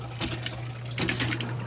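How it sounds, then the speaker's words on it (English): Water pump in a custom 7x14 cargo trailer hums steadily while water flows, with gushing bursts and some sputtering, likely from air in the lines, heard up close and alone. "This actually gives us our switch to turn on the water pump and allow us to actually get water."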